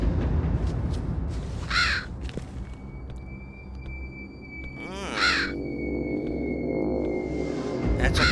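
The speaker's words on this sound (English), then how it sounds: "That's a crow." Crow cawing in the video game King's Quest: Mask of Eternity, with harsh caws around two and five seconds standing out over a steady game ambience and a thin sustained tone.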